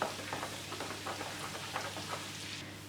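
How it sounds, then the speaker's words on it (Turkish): Dried mint frying in butter in a pan that is shaken rather than stirred, giving a faint, steady crackling sizzle with light scattered pops, heard alone at low level. "Ve hiç kaşık tektirmeden şöyle sallayarak nanemin kavrulmasını sağlıyorum tereyağıyla"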